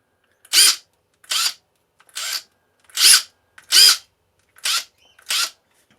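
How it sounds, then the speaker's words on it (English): A Makita DTD171 brushless impact driver revs in seven short separate bursts about one second apart, each a loud close whine as it cycles through its speed settings, with silence between bursts and no talk. "cycling through the speeds of your impact driver"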